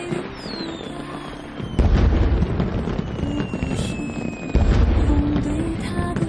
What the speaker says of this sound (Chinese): 开始放烟花了